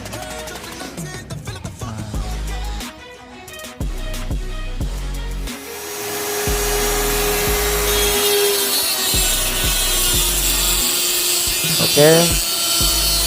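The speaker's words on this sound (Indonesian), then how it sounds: "proses menggerinda sedang berjalan" A thick plywood battery mold is ground down: after some knocks and a brief spoken word, a loud, continuous grinding whine takes over and holds steady to the end.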